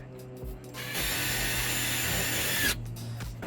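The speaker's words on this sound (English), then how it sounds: "since we're drilling into concrete siding" A power drill bores into concrete siding to mount an outdoor security camera, one steady, loud whine of about two seconds with quiet handling noise before and after.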